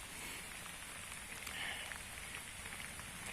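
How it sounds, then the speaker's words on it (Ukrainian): Steady rain falls outdoors during a summer run, a soft even hiss of drops on surfaces that holds at a constant low level throughout, with no talking. "Гарний дощик, гарний дощик."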